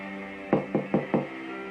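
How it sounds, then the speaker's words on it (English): Four evenly spaced knocks on a door sound close and distinct over a steady tonal background hum. "Bright was interrupted by a knock at the door."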